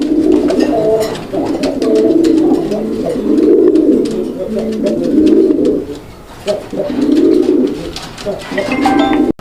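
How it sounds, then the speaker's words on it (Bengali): Raj Golla pigeons, including colouring Golla birds at a bird market, coo in repeated low rolling phrases, loud and close, with several birds calling in overlapping bouts almost continuously and brief pauses between. "আপনারা কবুতর দেখেন ডাক দেখেন"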